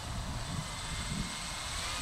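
An FMS F7F Tigercat 1700mm twin-engine RC model airplane flies past with a steady, dense electric motor and propeller drone, loud and continuous.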